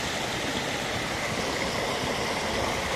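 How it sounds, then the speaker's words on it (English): A small seasonal waterfall pours steadily, giving a constant, even hiss of falling water with no breaks or other sounds. "the waterfalls here are temporary"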